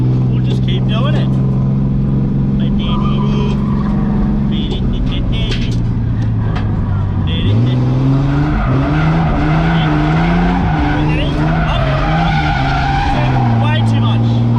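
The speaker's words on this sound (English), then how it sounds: "The car already drifted around the corner." A car drifts with an engine roaring at high revs and tires squealing long and loud, the pitch dipping and then climbing as throttle changes, close up, with voices talking over it.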